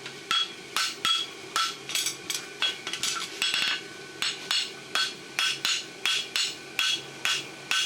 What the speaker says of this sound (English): Using the heel of my hammer to draw it out.